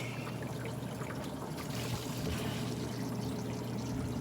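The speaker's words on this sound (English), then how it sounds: "the water is draining out of the tank using this system here" Aquarium water drains out of a tank through a Fluval FX canister filter. The pouring and trickling stays steady and close for several seconds, with a low hum underneath.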